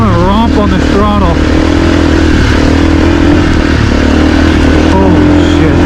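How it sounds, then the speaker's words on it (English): A 2024 Husqvarna FE450 dirt bike being ridden during break-in, its engine loud and close as the throttle is opened hard and rises and falls in pitch, with steady wind rush throughout. "I just want to romp on this throttle."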